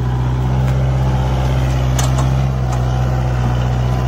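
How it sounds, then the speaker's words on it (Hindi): A 4x4 tractor pulls a harrow through a wet field, its engine a loud, steady, low droning rumble close by, with faint clatter on top and no one talking. "ट्रैक्टर वहीं से ही बिल्कुल एकदम हैरो को ऐसे लेकर चल दिया"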